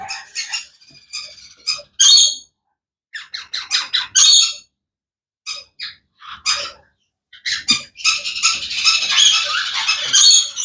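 Bursts of loud, raspy squawks and chirps from several birds nearby, coming in rapid clusters with short silences, growing into a steady noisy chorus at the end.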